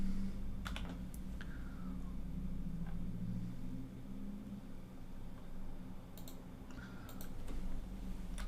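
Computer keyboard tapped for shortcut commands during office-style work: a handful of sharp, separate key clicks scattered over a low, steady background hum, fairly quiet and with no talking.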